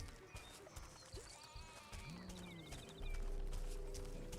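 Sheep bleat repeatedly in the video game Overlord, several wavering calls layered over game ambience, hoofbeat-like clopping and a low rumble that swells louder toward the end.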